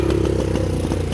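A motorcycle engine runs at a petrol pump, giving a close, steady, slightly rattling rumble from start to finish.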